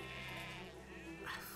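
Sheep bleat in the WWI video game Valiant Hearts: The Great War, a wavering nasal call near the end over a steady game background, fairly faint.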